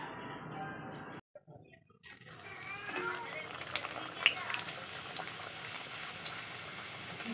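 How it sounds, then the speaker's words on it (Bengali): Luchi, puffed wheat-flour flatbreads, frying in hot oil give a steady dense sizzle and bubbling, briefly cut off before resuming, with small crackles on top in a home kitchen. "ফুলকো ফুলকো লুচি ভাজা হচ্ছে"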